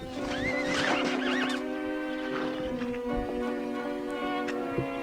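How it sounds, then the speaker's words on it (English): A horse whinnies loudly in a played film scene after a prop gun shot, the neigh rising and falling over a steady musical background before the horse goes down, with a short thump near the end. "Down goes the horse."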